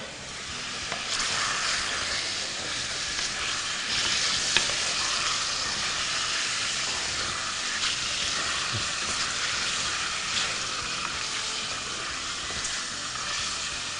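Chicken frying in a pan with cauliflower, stirred steadily with a utensil, giving a continuous close sizzle with scraping stir sounds throughout and no talking.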